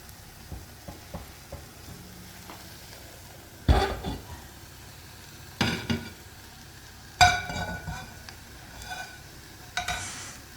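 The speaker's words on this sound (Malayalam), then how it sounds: "ഇനിയിപ്പോൾ നമുക്ക് വേറൊരു ചട്ടി വെച്ചിട്ട് ഇതിനെ ഒന്ന് ഫ്രൈ ആക്കി കൊടുക്കാം" Long green beans fry quietly in a pan under a faint, low sizzle, broken by several short bursts of stirring and scraping against the pan.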